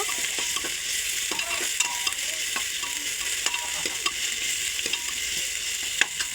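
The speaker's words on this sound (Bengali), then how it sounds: "এবার এর মধ্যে আমি আদা রসুনের পেস্ট দিয়ে দিলাম 1 চামচ। এটা একটু ভালো করে নেড়ে নেব।" Ginger-garlic paste is stirred into onions and bay leaf in hot oil in a pan, giving a steady sizzle with scattered scraping clicks of a spoon against the pan and no talking.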